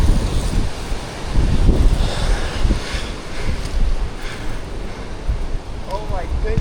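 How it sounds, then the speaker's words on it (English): Strong wind buffets the microphone outdoors beside a tree, with heavy low rumbling gusts rising and falling continuously and loud throughout. "That was fucking windy"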